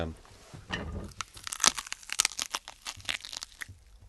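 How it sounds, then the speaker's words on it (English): Sound effect of a person biting into a banana to fake a big crunch and crack, a wet, messy tearing and crunching burst with sharp snaps, close and fairly loud. "where you want a really nice big descriptive crunch and a crack of something, I'd use a banana"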